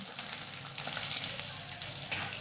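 Steady sizzling and light crackling of spices, curry leaves and garlic in hot oil, with a few sharper pops, close and continuous, no voices.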